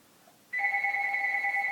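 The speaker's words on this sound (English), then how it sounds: "sorry that my phone is ringing." A mobile phone rings with a steady, continuous electronic tone that starts abruptly partway through and holds at an even level to the end, with no one talking.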